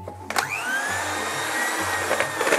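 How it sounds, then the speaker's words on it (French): An electric hand mixer whirring through Japanese crêpe batter, a sharp switch-on click then a steady high motor whine with slight pitch shifts, close and continuous with no talk. "Et après, tu vas prendre le batteur."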